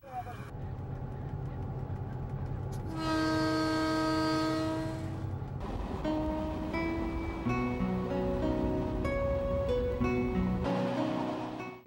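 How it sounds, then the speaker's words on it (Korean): A diesel train on the railway toward Oujda in Morocco rumbles steadily along the tracks, with loud sustained horn tones sounding over the rolling noise. "우즈다까지 350km를 타고 갈 기차는 디젤 엔진으로 달립니다."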